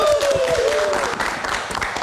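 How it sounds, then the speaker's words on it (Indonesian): A live-show audience claps at a music meet-and-greet night. The clapping is steady and continuous, and a brief whistle-like tone sounds near the start. "Kita kasih tepuk tangan sekali lagi untuk Cassandra"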